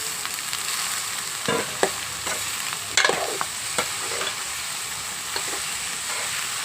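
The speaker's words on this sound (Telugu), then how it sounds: "వేసేస్తున్నాను చూడండి సోయా చిప్ని" Soya chunks go into a pan of frying onions, giving a steady bright sizzle broken by several close spatula scrapes and clacks against the pan.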